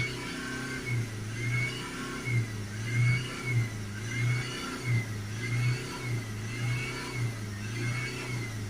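A Honda Civic 2.2 diesel engine with a partly blocked DPF revs up repeatedly in a steady rhythm, its low drone rising and falling in regular surges, close and fairly loud.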